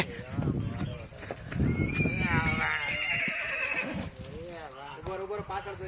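A mare gives a drawn-out whinny over nearby clip-clop hooves, with people talking close by.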